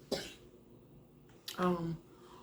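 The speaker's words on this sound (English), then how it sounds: "my son is coughing" A child coughs twice, close by, a short sharp cough followed a second later by a longer, hoarser voiced cough.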